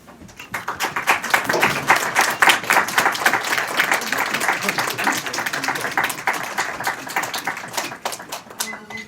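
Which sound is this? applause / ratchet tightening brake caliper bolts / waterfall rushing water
applause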